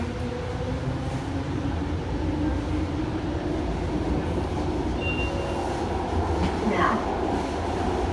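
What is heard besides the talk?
VTA light rail train moving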